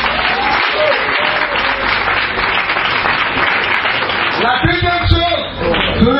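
A church congregation applauds and cheers for Jesus Christ in a dense, loud, sustained wash of clapping that carries on until voices come in near the end.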